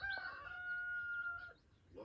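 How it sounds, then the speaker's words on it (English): A cockerel crows once as a sound effect in the Postman Pat children's TV show, a single drawn-out, quavering call heard faintly and alone. "I think this is the only time they use that cockerel sound effect in any TV show"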